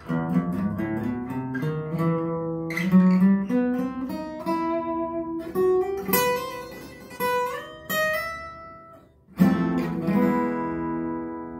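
A guitar plays a slow, ringing run of single notes climbing and shifting through an exotic scale in E, pausing briefly before a final struck note.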